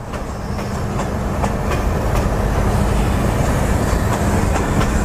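Royal Blossom train cars roll past at Bang Sue Junction station, a loud steady rumble with rhythmic clickety-clack of wheels over rail joints, close by and continuous.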